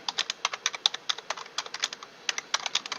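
Rapid typing on a computer keyboard, a steady run of crisp, close key clicks with uneven rhythm, heard alone with no voices.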